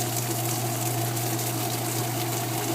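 Washing machine rinsing during a repair, a steady loud water-and-pump rush with a constant low motor hum running throughout, alone with no talk.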